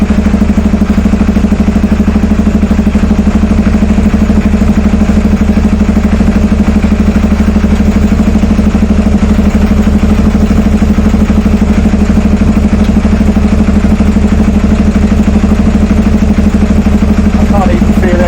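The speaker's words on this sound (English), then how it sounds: "that clutch is still rattling like a bastard" An Aprilia Shiver 750 motorcycle engine runs steadily close by with a clattering, rattling clutch, a continuous loud idle throughout.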